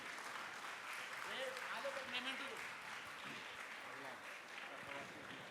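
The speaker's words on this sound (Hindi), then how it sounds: "आप लोग तालियों में कंजूसी न करें" An audience claps at an honouring ceremony during a Jain religious camp, with faint, distant, steady applause running beneath someone talking over a loudspeaker.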